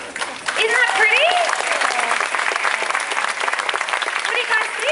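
Audience applause on a P&O Pacific Dawn food and wine cruise, a sustained round of clapping from a crowd with some cheering and voices mixed in.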